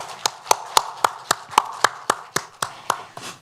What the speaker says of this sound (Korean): 박수를 다 같이 치겠습니다.